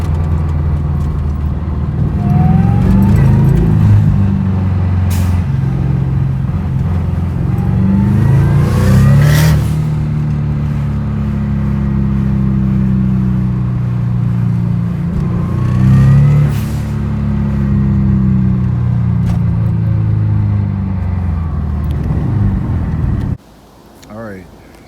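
A turbocharged Subaru FRS engine fitted with an external wastegate drones steadily up close, with rising and falling revs across several pulls before cutting off abruptly near the end, a voice talking over it.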